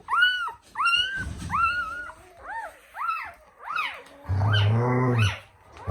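Newborn German Shepherd puppies whimper and squeal in a rapid series of high, arching cries, close and loud, with a brief low rustle partway through.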